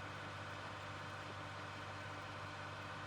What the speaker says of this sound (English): just hear the sound of the 8R series along with the disc